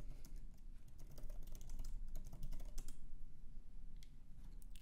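Keys on a computer keyboard clatter in quick, uneven bursts as a sign-up form is filled in, fairly close and unaccompanied, with short pauses between runs of typing.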